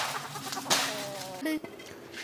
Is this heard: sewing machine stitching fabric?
no